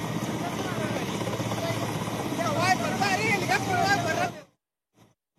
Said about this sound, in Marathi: नागरिकांची हेलिकॉप्टरने सुटका करण्यात येते आहे।